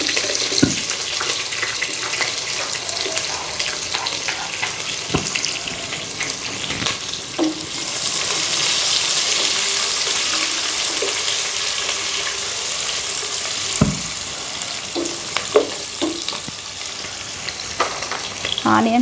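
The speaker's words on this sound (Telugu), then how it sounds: "ఇవి కొంచెం ఫ్రై అవుతున్నప్పుడే మనం ఆనియన్స్ వేసుకుందాం." Onions go into a hot pan alongside ingredients that are already frying for a Rayalaseema-style rice and chicken curry, with a steady loud sizzle, occasional stirring scrapes and clinks, and no talking.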